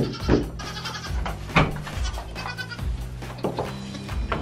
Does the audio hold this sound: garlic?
no